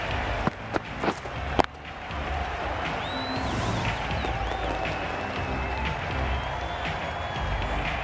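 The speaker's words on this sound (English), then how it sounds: "The crowd are going wild." A stadium crowd at a T20 cricket match between India and Pakistan roars and cheers after a wicket, a broad sustained swell following a few sharp claps or knocks near the start.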